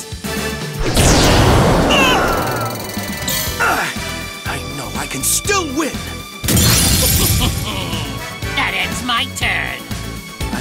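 Monster attack effects in the Yu-Gi-Oh Duel Links video game: loud shattering, smashing crashes in two big bursts, mixed with sweeping whooshes and sparkly game tones.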